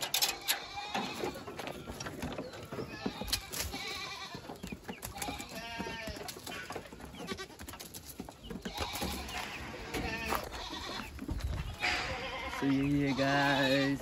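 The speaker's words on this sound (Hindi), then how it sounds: "बकरी इधर है बहुत सारे है बकरी" Goats bleating on a village outing, several calls scattered through a noisy outdoor scene, with someone talking over them and steady background clatter.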